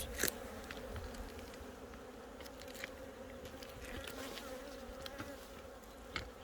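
Honeybees buzzing steadily around an opened hive during colony merging, a dense continuous drone close by, with a few faint clicks and knocks from handling.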